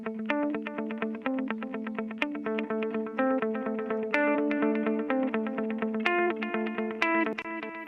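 Distorted electric guitars play a rhythmic picked pattern through a Spaced Out delay effect, each note followed by rhythmic delay repeats that fill the gaps, giving a shimmering, cascading pulse.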